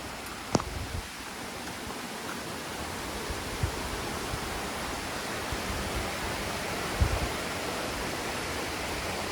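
Water pours at Nang Khuan waterfall, a steady broadband rush heard from a distance, moderately quiet and unbroken, with a few small knocks and footstep-like ticks over it.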